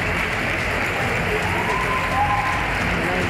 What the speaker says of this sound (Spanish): Gritos, aplausos para Miriam